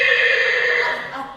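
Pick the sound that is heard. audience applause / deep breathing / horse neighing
horse neighing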